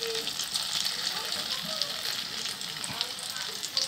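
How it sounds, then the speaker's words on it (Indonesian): Sausages fry in hot cooking oil in a pan, giving a close, continuous bubbling sizzle with light crackles and occasional faint stirring noises. "Kemudian kita bisa masukkan sosisnya terlebih dahulu seperti ini. Kita goreng supaya garing."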